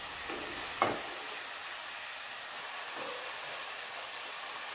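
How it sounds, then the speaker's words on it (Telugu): A pan of potato curry with Malabar spinach gives off a faint, steady sizzle as it is stirred, with one sharp spoon knock near the start and a few soft scrapes after. "ఇందులోనే బచ్చల కూర వేసి అంతా కలిసేటట్టు కలుపుకోవాలి"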